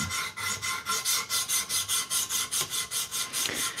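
Knife bevel on a WWII pilot knife being sharpened on a TSPROF Pioneer sharpener: rhythmic, close rasping strokes of abrasive on steel, about four per second, steady and even with no talking.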